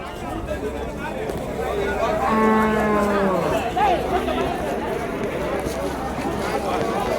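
Native cattle lowing at a crowded livestock market in Vaniyambadi, several drawn-out moos rising over a steady hubbub of voices and people talking nearby.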